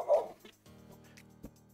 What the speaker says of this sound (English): Straight up a dog barking at my window.